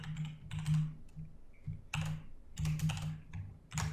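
Keystrokes tap out in quick, uneven bursts on a computer keyboard, close and fairly loud, with brief pauses between clusters of presses and no talking.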